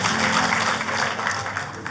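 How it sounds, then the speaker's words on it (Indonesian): A church congregation applauds in a brief, steady burst of clapping from many hands, filling the room evenly for about two seconds. "Tepuk tangannya buat Tuhan kita yang paling meriah."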